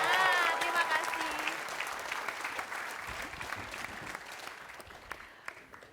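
A television studio audience claps at a talk show. The applause is loud and dense at the start, then slowly fades over several seconds.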